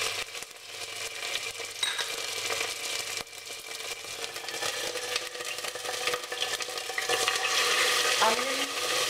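Minced garlic and ginger fry in a hot pan with a continuous bright sizzle and occasional stirring scrapes, close and steady throughout.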